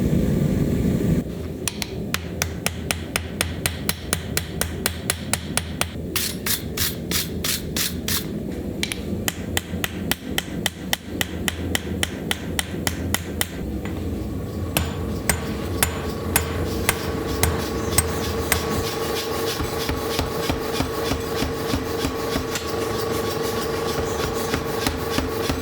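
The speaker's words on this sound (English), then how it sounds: "bring it up to forge welding temperature, and then it's time for forge welding." Repeated hammer blows on hot steel at forge welding heat, struck in steady rhythmic bursts at close range, with some scraping between strikes and no talking.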